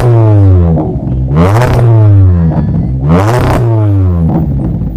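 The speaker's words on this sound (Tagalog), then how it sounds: "Ngayon pakinggan naman natin yung free flow muffler na black titanium." An MG ZS exhaust fitted with a black titanium free-flow muffler revs loudly in two strong surges, rising and falling pitch sweeps over a steady idle rumble, heard close with no talking.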